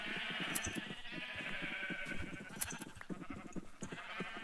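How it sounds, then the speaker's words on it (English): Several sheep bleat repeatedly, overlapping calls rising and falling, fairly close, with no talking. "I feel like I can almost not even hear myself talk with all the sheep noise going on."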